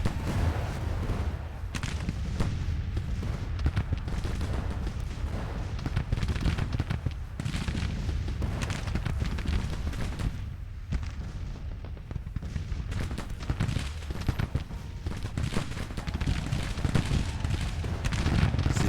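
Continuous battle din from a Civil War video game, with rolling musket volleys and booming artillery fire layered thickly over one another, loud and unbroken across the whole stretch.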